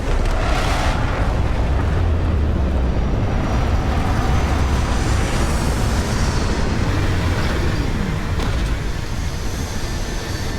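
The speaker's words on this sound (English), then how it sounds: "Landing struts primed. Retros firing." Spaceship retro thrusters fire during a landing in Starfield, a loud, steady roaring rumble that holds without a break for about ten seconds.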